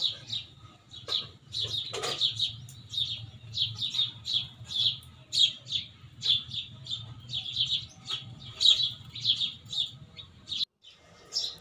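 Small birds chirp in quick, repeated bursts while feeding on food such as watermelon set out in pots at a home, close and fairly loud over a low steady background hum.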